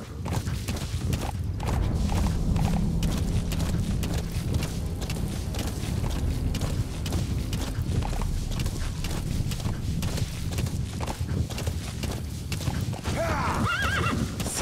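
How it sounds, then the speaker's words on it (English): A horse walking over stones in Metal Gear Solid V: The Phantom Pain, with a steady run of hoof clops and a whinny over continuous game ambience. "Esse cavalo aqui é ninja pra andar nessas pedras, hein?"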